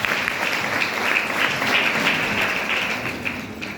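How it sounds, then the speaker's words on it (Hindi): An audience at a DXN distributors' meeting gives hearty applause. Many hands clap in a dense, continuous patter that stays fairly loud and even for nearly four seconds before easing slightly at the end. "तो सभी लोग के लिए जबरदस्त ताली होना चाहिए"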